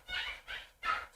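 Dogs barking nearby: three short, loud barks in quick succession, heard alone without other sounds.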